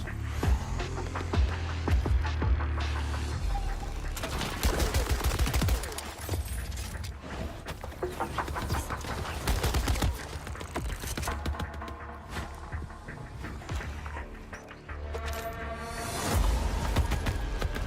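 Dense gunfire and mechanical weapon clatter from the video game Borderlands 4 fill the mix continuously, with rapid bursts and ratcheting sounds over a loud, busy game soundtrack.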